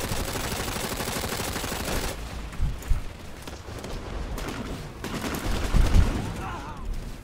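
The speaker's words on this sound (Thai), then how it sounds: "ต้องบุกต้องบุกยิงกันมันเลยนะตัวเธอ" Rapid automatic gunfire from the online shooter Planetside 2 rattles on steadily throughout, with heavier thumps and bursts near the end as a voice talks over the fighting.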